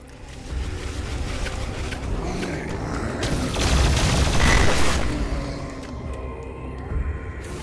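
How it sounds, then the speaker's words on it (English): An explosion in the video game DOOM Eternal, triggered by a plasma rifle breaking an energy shield, rumbles loudly and swells over a dense, continuous wash of combat noise. "damaging explosion."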